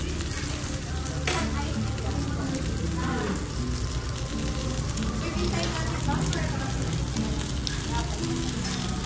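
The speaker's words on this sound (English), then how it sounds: "Oh, it's really sizzling." Chicken steak sizzles loudly and steadily on a hot plate at a restaurant dinner, a constant crackling fry with people talking over it.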